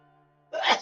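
A single sudden sneeze during a live stream, close and sharp, bursting out after a faint steady hum.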